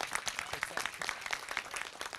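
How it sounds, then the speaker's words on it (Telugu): An audience of software employees at a film premiere applauds for actor Kishore, dense rapid clapping throughout, fairly close and lively, with a few voices mixed in. "క్లాప్స్ కొట్టండి కదా సార్ కిషోర్ అన్నకి"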